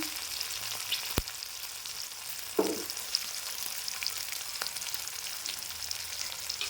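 Chopped onion frying in a pan for a dhaba-style egg curry, a steady quiet sizzle with a few sharp clicks of a spoon and a brief scraping stir, close by and without speech.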